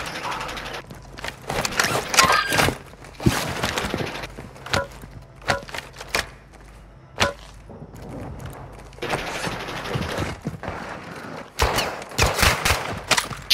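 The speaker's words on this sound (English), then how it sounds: "Shots on us right over here." Gunfire in the video game Call of Duty: Modern Warfare II comes as repeated bursts of automatic rifle fire and single shots, loud and close, with clanking mechanical sounds and gaps of quieter ambience between volleys.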